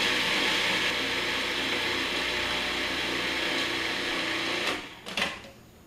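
A food processor whirs steadily at high speed while blending raw Mexican pate, a loud continuous motor drone that cuts off near the end with a couple of brief bumps.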